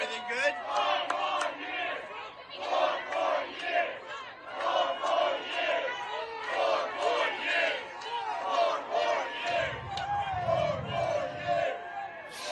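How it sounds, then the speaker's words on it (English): A large crowd at a Biden event chants and shouts in rolling, rhythmic waves of many voices, loud and sustained from start to finish. "a huge crowd, right?"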